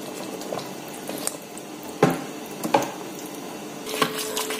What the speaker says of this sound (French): J'ajoute donc 100 ml d'eau et je laisse donc mijoter à feu doux